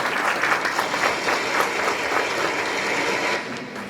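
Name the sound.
applause at a graduation ceremony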